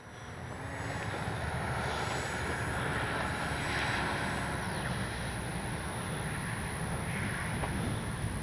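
A radio-controlled Kavan Beta 1400mm model propeller plane drones steadily at a distance, its engine whine holding over wind rumble without a break.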